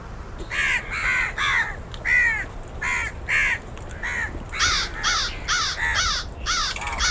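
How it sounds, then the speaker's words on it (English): Several crows caw repeatedly around a carcass on open icy ground, their harsh calls coming in a steady rhythm of clustered bursts, fairly close and loud, with no other voices. "The crows circled further."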